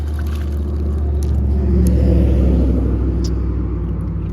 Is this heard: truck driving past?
yes